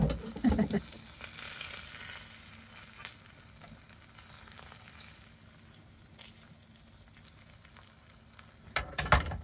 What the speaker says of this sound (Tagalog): lutuin natin ang ating itlog